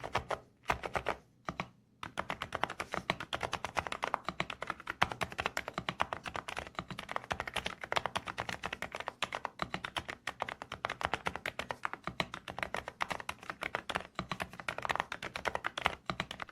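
Mechanical keyboard switches with slightly hollow inner housings and silicone dampening, typed on in a steady rapid clatter of close, crisp keystrokes with brief pauses near the start, no voice present.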